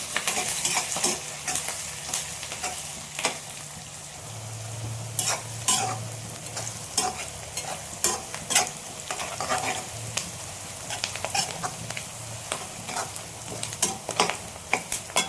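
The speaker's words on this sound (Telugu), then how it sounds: "కరివేపాకు వేసి వేయించుకున్నాం" Curry leaves fry with onions in a pan, a close, steady sizzle broken by frequent sharp crackles and spatters, with occasional spoon scrapes against the pan.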